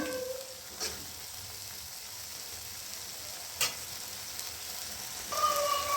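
Bitter gourd frying with masala in a pan, a quiet steady sizzle with a couple of sharp clinks from stirring, no voices.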